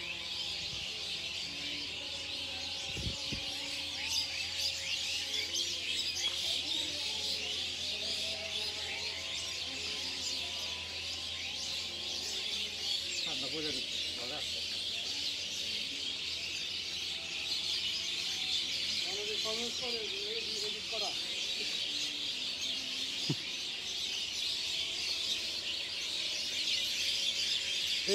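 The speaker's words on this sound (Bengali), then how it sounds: "আপনারা একটু পাখির শব্দ শুনুন।" Birds chirp and call in scattered bursts around a village house, set against a steady bed of high insect or ambient hiss, with occasional faint fowl-like notes and no talking.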